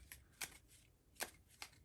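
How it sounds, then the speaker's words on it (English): A deck of playing cards is shuffled quickly during a solitaire board game, with a few soft riffling bursts close by in a quiet room. "We can't, so we're going to go ahead and shuffle quick."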